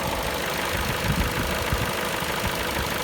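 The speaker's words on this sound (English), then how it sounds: "The engine doesn't shake at all." A Vauxhall Insignia 1.8 engine idles smoothly after a lean fuel trim fault was fixed, giving a constant, even, close-up hum with no breaks throughout the short stretch.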